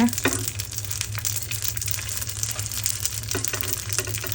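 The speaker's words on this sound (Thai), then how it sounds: "นำไส้กรอกมาฉี่ทอดในกระทะนะคะ" Sausages frying in oil in a pan, a continuous dense crackling sizzle close up with occasional faint pops and a low steady hum underneath, no talking.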